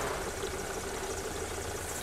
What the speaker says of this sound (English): Let's just have a listen to this GPU again, aka GPU slash engine.